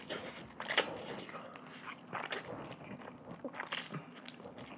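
Someone eats spicy black bean noodles close to the mic, with soft irregular slurps, bites and chewing clicks at a quiet level.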